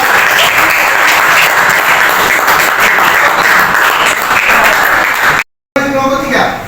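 Dense, steady applause fills a classroom during a physics lesson as a student group is cheered for presenting, running loud and continuous before a brief cut into a voice speaking.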